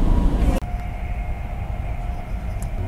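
A high-speed train running from Hong Kong toward Nanning, heard from inside as a loud steady rumble with a faint whine; a sharp thump early on drops the level to a quieter even roar.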